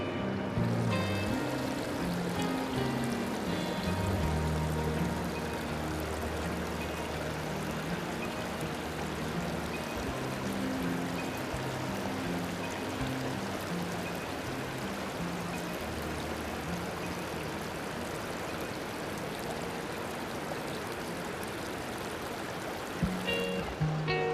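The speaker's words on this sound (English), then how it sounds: "Here's a little waterfall that empties into the Caney Fork River." A small waterfall pours over a shallow cave into the Caney Fork River at Rock Island, making a steady, full rushing of water that continues unbroken and close by.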